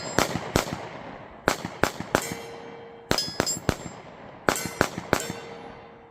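Sig Sauer P365 9mm pistol fired at a range from about 10 yards, with sharp, loud single shots in quick clusters of two to four separated by short pauses.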